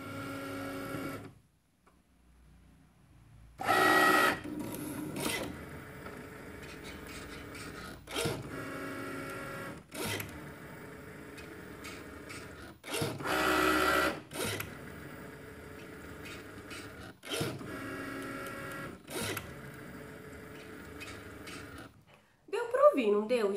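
A cutting machine whirs and buzzes in repeated mechanical bursts, stopping and starting with short pauses, close and steady in volume.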